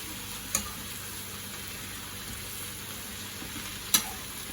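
Mushrooms sizzle steadily in garlic-flavored oil as they are stirred in a pan for lettuce wraps, a continuous close frying hiss with two sharp utensil clinks near the start and the end.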